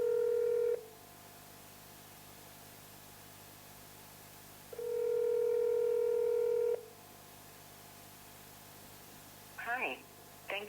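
A telephone call back to Liberty Yellow Cab: two long electronic ringback tones separated by a silent gap, clear and close, followed by a brief burst of sound as the line picks up.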